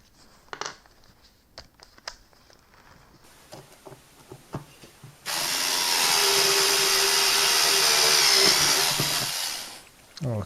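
A power drill bores through thin sheet metal on a camera stand, a loud steady whine starting midway and running about five seconds after scattered handling clicks and taps, then stopping abruptly.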